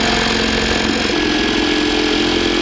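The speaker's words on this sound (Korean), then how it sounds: "제가 전달 드린 내용으로 자재, 즉 나무 판재를 한번 잘라 보도록 하겠습니다." Milwaukee reciprocating saw cutting through a wooden board, a loud, steady motor drone with a rapid buzzing stroke running continuously from start to finish with no pauses.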